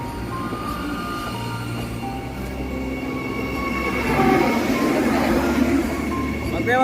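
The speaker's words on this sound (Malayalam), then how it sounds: "അത് പുതിയ വന്ദേ ഭാരതാണ്." A new Vande Bharat express train passes close by, a continuous rumbling roll of wheels on rails with squeals and rising noise as it nears, heard outdoors with some talk around.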